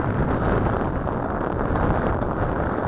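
Strong wind buffets the microphone near a hovering FY326 drone on a windy day, a loud, continuous broadband roar and rumble with no clear breaks and no talking.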